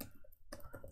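Computer keyboard keys clicking as a terminal command is typed, a few faint, quick taps close by.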